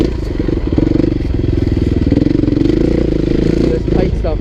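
A 2016 KTM 350 EXC-F four-stroke dirt bike revs steadily through tight trail terrain, its engine buzzing loud and close with clattering chassis noise throughout.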